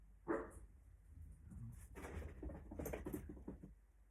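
Small dog indoors growling and huffing in short, breathy bursts, with a sharper huff near the start and a choppy run of snorts and low grumbles after it, faint and close.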